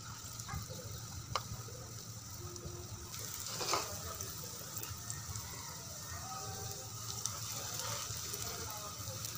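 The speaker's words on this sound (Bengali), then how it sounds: "আমি এভাবে করে বড়া দিয়ে দিচ্ছি তেলে, একটু গোল গোল করে পাতলা করে দিচ্ছি।" Thin rounds of lentil fritter (bora) batter frying in hot oil over a medium flame, a steady close sizzle with light crackle and a few sharper clinks from the pan, continuous throughout.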